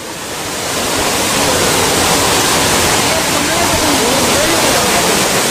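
Powerful waterfall pouring with heavy pressure at a holiday spot near Kolkata, a loud, steady broadband roar that swells in over the first second and then holds constant throughout.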